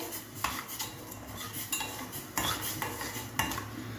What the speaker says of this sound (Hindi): अब मैं इस दूध में ये हल्दी ऐड करूंगी और अच्छी तरह मिक्स कर लूंगी।